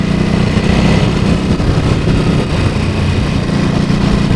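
Ducati Supersport S motorcycle accelerating in third gear, its engine a loud, close, continuous drone with wind rush, steady throughout with no speech.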